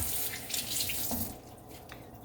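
Tap water running steadily into a kitchen sink to wash a pan, a close continuous splashing rush that eases slightly toward the end.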